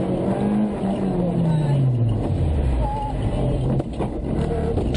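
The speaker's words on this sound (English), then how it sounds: "Just proving how slippery it is in the fairly underpowered Peugeot" A fairly underpowered Peugeot rally car drives a slippery North West stage, its engine note rising and falling as revs shift, heard from inside or close by with steady road and wind noise underneath.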